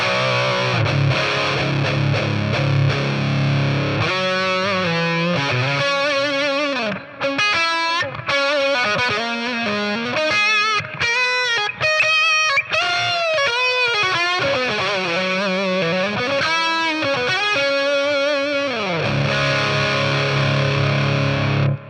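Heavily distorted electric guitar through a BOSS Katana MK2 amp plays a continuous riff with sustained, saturated notes and quick bends, loud and up front.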